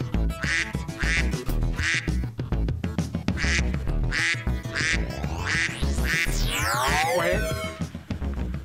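A duck quacks loudly in a rapid run of close, nasal calls, then a swooping electronic warble rises through the sound near the end.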